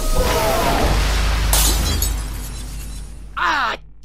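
Glass shattering in LEGO Harry Potter, a loud crash with tinkling debris, then a second short shatter burst near the end.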